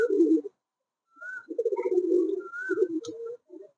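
Giribaz pigeons at a farm coo in soft, close, rolling phrases separated by short pauses, with a few faint whistle-like notes and no talk.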